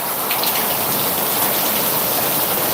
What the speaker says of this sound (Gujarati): અને બહુ અત્યારે પ્રમાણ વધી ગયું છે વરસાદનું